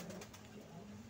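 An elderly male pigeon, about seven or eight years old, coos faintly at a home loft in Guanabacoa amid a dense, noisy background.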